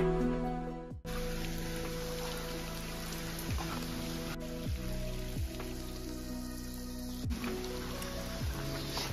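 Steady rain falling on surfaces at the Matheran hill station, a continuous hiss with faint tonal hum underneath and no voices.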